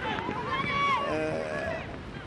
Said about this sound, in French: parce qu'il y a beaucoup de vent